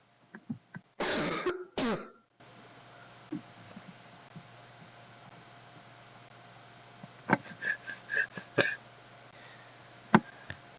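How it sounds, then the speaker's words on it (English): Coughing sound effect in a Scratch project: a few short, sharp coughs near the start, then faint hissing background with a scatter of small clicks and throat sounds later, no speech. "Sneeze and cough in somebody's face."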